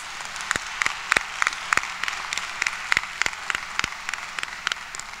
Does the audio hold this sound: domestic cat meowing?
no